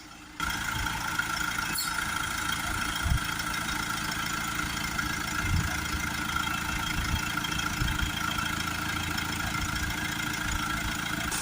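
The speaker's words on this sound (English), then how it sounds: "just let it idle for a minute, just to let those tubes clear out" A Mercedes C220 with a clogged diesel particulate filter idles close by, a constant low rumble with no talking.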